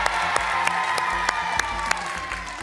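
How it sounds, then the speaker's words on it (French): Studio audience applauding contestants on a French TV quiz show, a steady wash of clapping with a few sharper claps standing out, fairly close and continuous. "encore des applaudissements pour nos candidats quand même"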